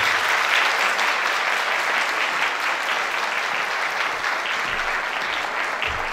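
Sustained applause from a large audience at a gathering, thanking those who contributed; a dense, even roar of many hands clapping, loud and continuous for several seconds without talk.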